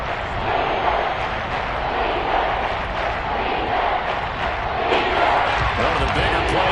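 Football stadium crowd at a 49ers league game, a dense, continuous roar of cheering filling the background and swelling slightly, under a commentator's voice.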